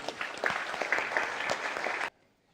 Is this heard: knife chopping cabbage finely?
no